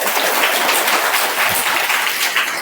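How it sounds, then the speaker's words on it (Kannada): An audience at a speech honoring a memorial effort in Karnataka breaks into loud, sustained applause, a dense wash of many hands clapping together that stays steady from start to finish with no voice over it. "ಅವರ ಈ ಪ್ರಯತ್ನಕ್ಕೆ ನಾವು ನೀವೆಲ್ಲ ಜೋರಾಗಿ ಚಪ್ಪಾಳೆಯನ್ನು ತಟ್ಟಿ"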